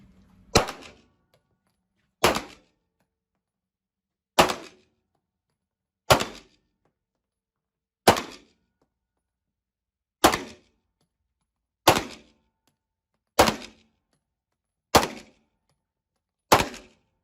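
Ten sharp pistol shots, from an HK USP .45 ACP or a Stoeger SR9, ring out at an indoor range in Güzelbahçe, İzmir. They are fired one at a time at roughly two-second intervals, each a loud crack with a brief echo.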